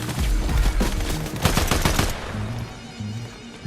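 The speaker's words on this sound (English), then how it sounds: "Now they shoot us down in this house" Gunfire in a Fortnite Zero Build match, rapid overlapping bursts of automatic shots, loud and close, that ease into quieter background game noise.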